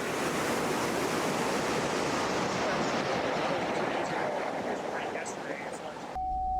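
Chasm Falls in Rocky Mountain National Park roars in a steady, dense wash of falling water close by, continuous and loud with no pauses, cut off abruptly near the end.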